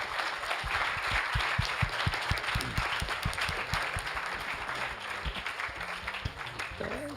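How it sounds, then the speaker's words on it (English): Audience at a women's panel discussion gives a sustained round of applause for the organizers, steady clapping from a room of people with a voice talking over it. "can we please first offer a round of applause for the organizers"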